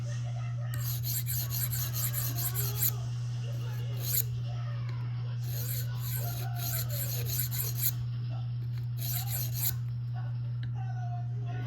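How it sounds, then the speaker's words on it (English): A Spyderco REC Manix 2 knife edge is stroked across a sharpening stone in repeated bursts of scraping, under a steady low hum and someone talking throughout. "you're just polishing that edge more and more and trying to get that edge a little keener than before"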